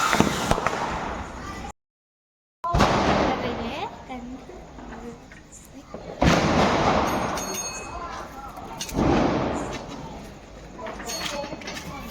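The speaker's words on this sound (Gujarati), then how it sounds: "આ તું ફટાકડા અહીંયા ફોડજે" Diwali firecrackers burst in sharp, loud cracks at intervals, with voices talking throughout and a short gap of silence early on.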